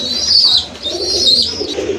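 Rasgolla pigeons, a deep red, well-marked pair, coo steadily at close range, with soft overlapping calls and faint chirps over a busy background.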